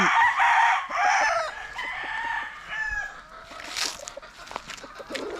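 Hens cluck and a rooster crows on a poultry farm, the crowing loud and close at the start, followed by scattered clucks and softer calls from the flock.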